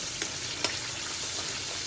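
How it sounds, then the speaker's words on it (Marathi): Masala with turmeric is sautéed in hot oil for green pomfret tikhle, giving a steady frying sizzle with a couple of sharp stirring clicks near the start and no voices. "आणि हळदही घालून घेऊया चांगलं परतून घेऊया"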